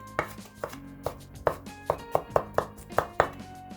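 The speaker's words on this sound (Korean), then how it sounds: "대파의 일부분 다진 마늘과 함께 기름에 볶을 거기 때문에 그냥 대충 다져주시면 되겠습니다" Green onion being roughly minced with a knife on a cutting board, a steady series of about a dozen close, sharp chops at an even rhythm, with no talk.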